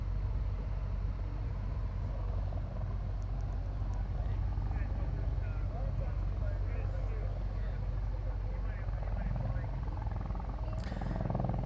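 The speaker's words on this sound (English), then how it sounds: "so this is a CH-53. Nice landing touchdown there." A CH-53 helicopter lands at the Cleveland, Ohio air show, its steady, dense rotor and engine roar continuing throughout, heard from a distance while a commentator talks over it.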